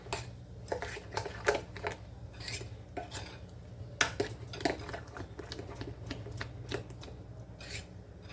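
A spoon stirs dhokla batter with Eno fruit salt and water in a bowl, giving repeated light clinks and scrapes against the dish in an irregular rhythm, faint and close, with no talking.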